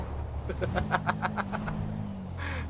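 Car engine in GTA V driving on a city street, a steady low drone with a rising rev pattern and a brief higher whine near the end.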